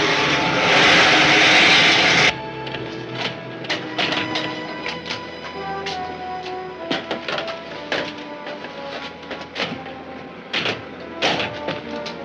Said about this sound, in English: The port steering jet doesn't seem to be working.